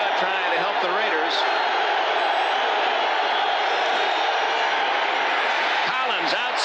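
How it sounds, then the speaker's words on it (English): A stadium crowd at a Raiders home NFL game against the New England Patriots roars in a steady, loud, continuous wash of noise that holds without a break. "Eason with the crowd trying to help the Raiders."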